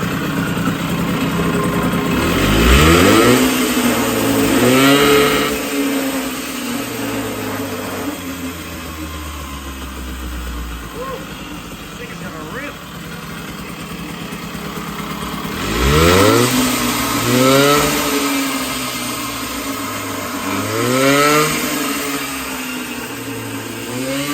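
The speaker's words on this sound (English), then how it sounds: "Alright, now that the bike is warmed up a little bit," A warmed-up 1980 Puch Murray moped with a custom exhaust pipe revs close by in two rounds of rising and falling buzzy engine whine, settling into a rough idle between them.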